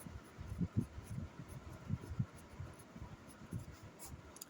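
A math equation written out by hand, a steady stream of soft, low scratching strokes in short irregular bursts, close and quiet, with no talking.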